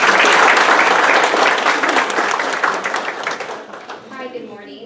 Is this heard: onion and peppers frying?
no